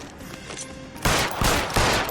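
Gunfire from L.A. Noire rings out, three loud, close shots in quick succession, each a sharp crack with a ringing tail, following a moment of quieter background.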